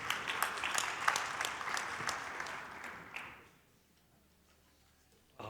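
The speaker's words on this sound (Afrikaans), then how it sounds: "kom ons gee hulle ook 'n lekker hande klap" A church congregation claps and applauds for the music team in a dense wash of hand claps that fades out after about three seconds, leaving near silence before a brief sound at the end.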